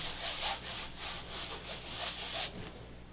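Cloth wiping grime off a surface, a faint series of soft rhythmic rubbing strokes, quiet and close, with no talking.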